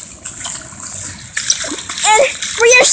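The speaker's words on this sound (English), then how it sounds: "We're walking and there's water splashing all over" Water splashing and sloshing as people walk through heavy rain, a steady wet wash with splashes growing louder toward the end, while a voice chirps and calls over it.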